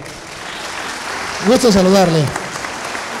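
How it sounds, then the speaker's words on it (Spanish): Studio audience applause for a guest on a live show: a steady bed of clapping runs throughout, while someone speaks briefly over it partway through. "¡Oh, démosle un aplauso!"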